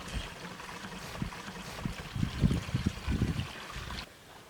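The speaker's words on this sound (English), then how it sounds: "fill a regular sprayer with the biofertilizer solution and detach the sprayer's nozzle and drench each plant near the root zone" Biofertilizer solution poured from a sprayer with its nozzle removed to drench plants at the root zone, a faint, close, uneven trickling and splashing that stops near the end.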